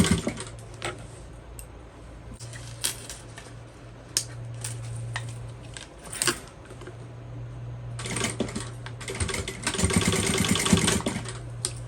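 Sewing machine sealing the end of a fold-over crossbody bag in cotton fabric: a steady low hum with scattered clicks and taps, picking up into busier, louder stitching toward the end.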